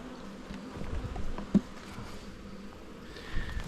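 Bees buzz in a low, steady hum around a weak nuc hive being opened and inspected, with a soft tap or knock partway through and another brief bump near the end.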